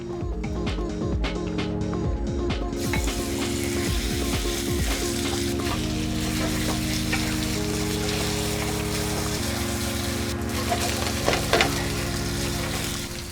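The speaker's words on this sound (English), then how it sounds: "The first step will be to stir-fry the meat once the oil is hot." Chicken pieces stir-fried in hot oil for an Okinawan goya champuru, sizzling loudly and continuously with clattering stirs and tosses throughout, no talking.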